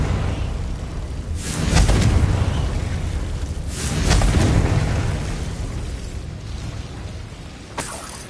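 Confringo blasting spell in Hogwarts Legacy detonating with two big rumbling booms a couple of seconds apart, followed by a sharp crack near the end, loud and close with no talking.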